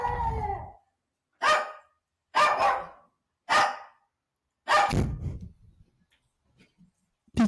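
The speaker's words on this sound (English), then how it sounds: "Peaches is barking at Belle." A dog gives about five sharp barks spaced a second or so apart, loud and close. A short low whine comes before them and faint scuffs come after, with no talking.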